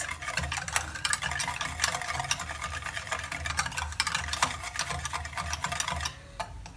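Rapid, rhythmic clicking and whirring as chocolate cake batter is beaten by machine, continuous and fairly close, easing off near the end.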